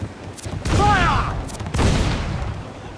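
Two close, loud cannon blasts in quick succession from naval guns in the pirate game Assassin's Creed IV Black Flag, the first trailing a whistling sweep before the second booms out and rumbles away.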